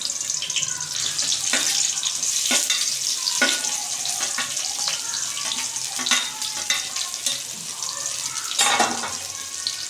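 Sliced onions and green chilies frying in hot oil in a pan, a continuous bright sizzle with scattered crackles and spoon clicks throughout.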